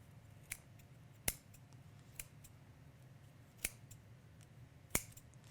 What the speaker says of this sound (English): I like to use the fabric scissors with my yarn because I think it cuts through them better.